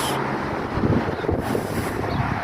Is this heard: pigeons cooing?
no